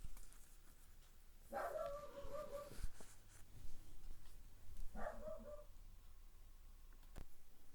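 Two sharp dog barks, one early and one a few seconds later, over a quiet background with faint rustling.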